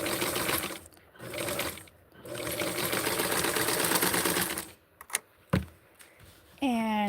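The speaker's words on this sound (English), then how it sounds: "I'm going to use this opportunity and sew a little bit tighter along the waist" A sewing machine stitches vintage 1960s barkcloth in close, fast mechanical runs of a few seconds each, separated by short pauses and clicks, with a brief voice at the very end.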